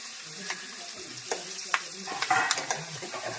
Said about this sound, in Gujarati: અને હવે આ હું સંભારો વઘારો.